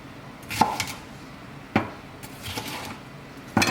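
A knife loosely chopping vegetables for homemade sofrito on a cutting board, with a few sharp, irregular chops close by and quiet gaps between them, no voices.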